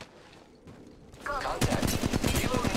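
Rapid automatic gunfire erupts in Apex Legends Mobile gameplay, loud, dense bursts hammering continuously after a quieter, muffled opening.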